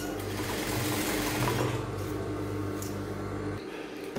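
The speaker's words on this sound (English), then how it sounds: "Just use your hand to hold it down and just sew all the way." Sewing machine stitching crinoline onto the hem of a 720 flare skirt, a loud, steady motor whir with fast needle rattle that cuts off near the end, no talk.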